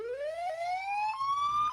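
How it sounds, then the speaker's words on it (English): A simulated electronic siren tone sweeps smoothly upward in pitch, loud and alone over a short span. "Let's do a high-low. That sounds like kind of siren tone-esque."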